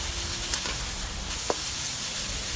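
Green rice flakes (khao mao) are stir-fried in a pan with a steady, close hiss of frying, broken by a couple of soft scraping clicks from stirring, and no voices.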